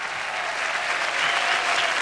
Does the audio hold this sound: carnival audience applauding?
yes